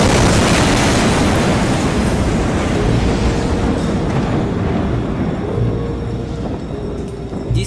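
The massive explosion at the port of Beirut, a loud, continuous rumbling roar that fills the whole stretch and only eases slightly toward the end, with no voices.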